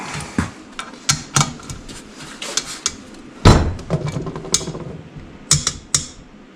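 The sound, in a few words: torquing winch mounting bolts with a manual wrench ratchet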